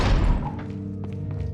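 Modded door sound effect in Resident Evil 4 on PC: a heavy low thud and rumble of a door closing, followed by softer knocks and creaks fading out.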